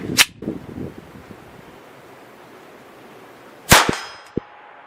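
A Sig P322 .22LR pistol fires at a steel target 50 yards away on a windy range: two sharp cracks several seconds apart, followed by a faint, short metallic ping.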